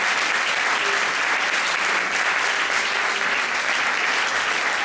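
Dense, sustained applause from the audience at a Karagiozis shadow puppet show, loud and even, filling the whole stretch without a break and rising above a few faint voices.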